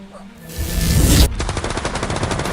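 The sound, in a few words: gunshots in a film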